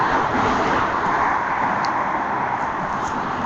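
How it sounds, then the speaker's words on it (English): Steady, loud broadband roar of cars speeding along a 70 mph road with no walkway or cycle lane, continuous close traffic noise without distinct gaps. "probably behind me, the cars are speeding here"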